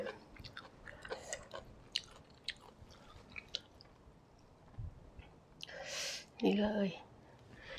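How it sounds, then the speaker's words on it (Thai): Someone eating chili dip with bamboo shoots, with soft, close chewing and wet mouth sounds scattered through the clip, followed by a brief bit of speech near the end. "กินกับหน่อไม้ก็แซ่บ"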